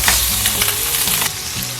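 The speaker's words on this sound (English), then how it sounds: "I'll add a little bit of oil and begin to fry the chicken on" Chicken sizzles and crackles loudly in hot oil in a wok over high heat, with a few scraping stirs and a steady hiss close up.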